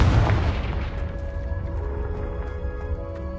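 Confringo explosion spell in the Hogwarts Legacy video game: a loud, close boom at the start that rumbles and decays into a long ringing, humming tail, with no talking.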